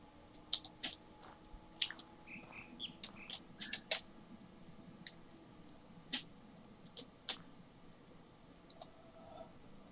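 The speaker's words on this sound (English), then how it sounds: "It's the bird call." Bird call in the video game The Witness: a series of short, bright chirps and clicks scattered across several seconds, fairly faint over a quiet ambient background.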